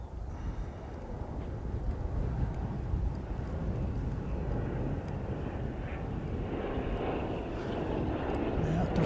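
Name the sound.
airplane landing in a crosswind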